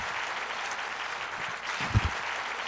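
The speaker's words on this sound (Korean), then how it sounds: "박수하겠습니다" An audience at a Korean patriotic church talk event applauds in a steady, even wash of clapping, heard from a moderate distance with a couple of louder close claps near the end.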